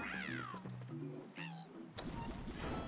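Cartoonish cat meows from Super Mario 3D World ring out clearly, with two or three sliding meows over game tones and a closing crash-like effect.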